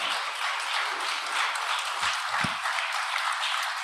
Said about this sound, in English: let's just give them a quick round of applause